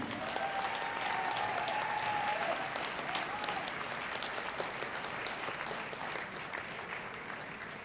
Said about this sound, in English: how about a big round of applause from Wisconsin, Kathy Fleesek Dinleen